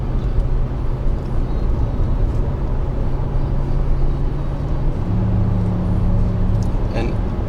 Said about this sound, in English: it's a W12. It's like two V6s put together into one motor